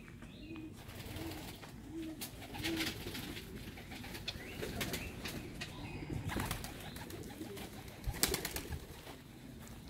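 Pigeons in a loft give soft, low coos at a moderate distance, with a brief flutter of wings and faint rustling in between.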